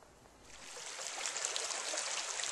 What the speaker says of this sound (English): This is Dismal Creek.